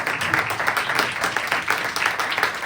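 A crowd applauds in a continuous, even burst of clapping with a touch of voices mixed in, sustained over the short stretch.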